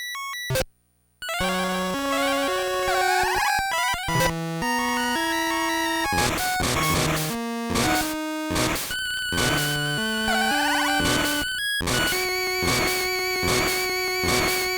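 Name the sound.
Theme music from Game Boy video game DuckTales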